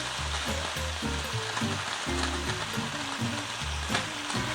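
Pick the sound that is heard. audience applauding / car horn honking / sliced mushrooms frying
sliced mushrooms frying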